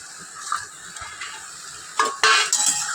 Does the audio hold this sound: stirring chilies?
yes